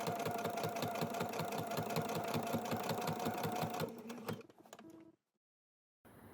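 A sewing machine fitted with a walking foot topstitches a wool pea coat, its rapid rhythmic needle chatter steady and close for about four seconds before slowing, stopping, and falling silent.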